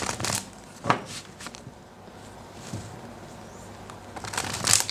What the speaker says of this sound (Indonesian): Terutama ketika aku shuffle kartu ini